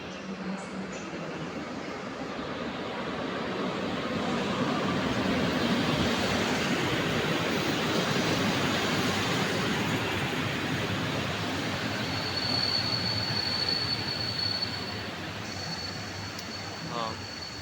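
A train of wagons hauled by an EP07 electric locomotive rolls steadily past nearby, a broad continuous rumble and clatter of wagons swelling and holding, with a faint high squeal late on.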